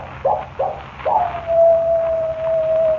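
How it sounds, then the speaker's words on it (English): A coyote howl made as a 1941 radio drama sound effect: two short yips, then a rising call that stretches into a long, steady, thin howl lasting a couple of seconds. "When the coyote howls 3 times, I die."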